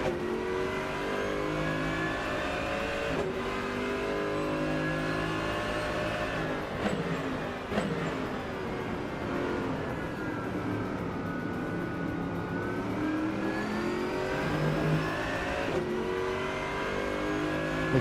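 Racing video game car engine revving hard with quick upshifts, pitch climbing and dropping at each gear change, loud and continuous without a break.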